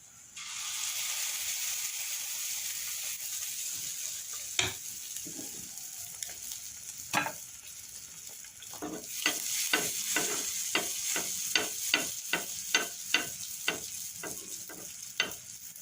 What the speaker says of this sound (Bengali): এইভাবে আমি বাকি পিঠাগুলো সব ভেজে নেব